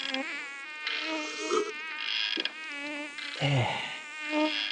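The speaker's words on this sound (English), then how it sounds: "That gum mosquito's trying to carry me off." Whining mosquito buzz hovers close in hot summer weather, wavering in pitch and loudness as the insect circles and darts, with short dips and surges; no voices.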